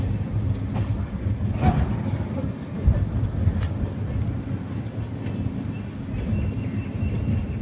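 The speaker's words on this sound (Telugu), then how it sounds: "అదొక ట్రైను. ఎక్కడ ఇంకా ట్రైన్లు ఉన్నాయి." A passenger train rolls past near Chennai Central station, a steady low rumble of wheels and carriages with faint rail clanks, continuous and moderately loud throughout.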